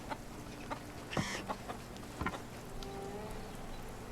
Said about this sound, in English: Chickens? What are you doing?